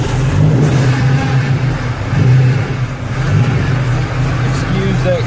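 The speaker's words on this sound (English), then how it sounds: "excuse that grinding noise." A Jeep engine idles and revs steadily after a cold start, with a grinding whine from a new Duralast power steering pump running close and loud throughout, and someone talking over it.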